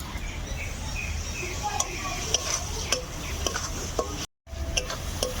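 Continuous scraping and stirring of masala paste with ground cashews and raisins in a wok, with intermittent metallic clinks from the spoon against the pan and a soft sizzle underneath, briefly cut by a short gap.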